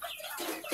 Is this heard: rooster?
yes